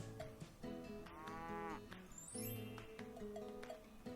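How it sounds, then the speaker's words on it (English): Cattle mooing on a farm, several long drawn-out lowing calls rising and falling across the clip, fairly close and clear with faint farmyard background and no speech. "These farm animals are cows."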